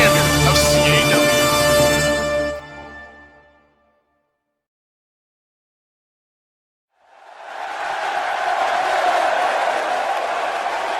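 A sold-out arena crowd in a wrestling video game at Portland, Maine's Cross Insurance Arena roars in a broad, sustained wash of cheering that swells in after a silent gap, following an earlier tonal fanfare-like passage.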